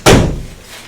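A door slams shut in a meeting room, one loud close thud with a short decaying tail, heard on its own.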